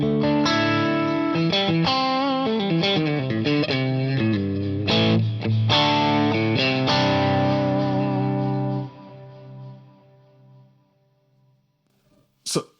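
An electric guitar played through a circle delay pedal in a wet/dry/wet rig rings out in distorted, layered chords that end with repeats trailing off into a fading echo tail.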